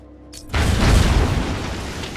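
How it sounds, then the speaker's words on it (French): Explosive gel detonates in Batman: Arkham Asylum, a sudden loud boom after a brief quiet lead-in, followed by a long rumbling roar that slowly fades. "c'est du gel explosif"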